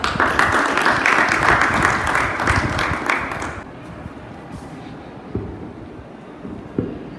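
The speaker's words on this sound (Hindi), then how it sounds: "एक बार फिर से रचना मैम के लिए जोरदार तालियां हो जाए" Audience in a school hall applauds after a Hindi recitation at a Hindi Pakhwada celebration at Kendriya Vidyalaya Khairagarh. Dense, loud clapping lasts about three and a half seconds, then drops to a quieter murmur with a couple of isolated thumps.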